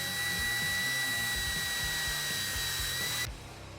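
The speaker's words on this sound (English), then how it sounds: "we'll put the screws in the bottom to attach the differential to the chassis" An electric driver runs screws into an RC car chassis to fix the front differential, a loud continuous whine with pulsing low rumble that cuts off sharply near the end.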